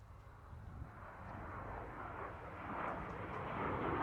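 A distant aircraft engine drones and swells steadily, growing slightly louder as it passes, with a broad rumbling roar and no voices.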